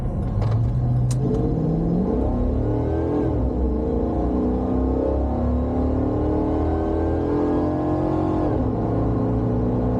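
A Chevrolet Impala SS with a stock LT1 V8 and TorqHead tune accelerates hard through the gears, its engine roaring loud and close with rising pitch sweeps and a brief shift break midway.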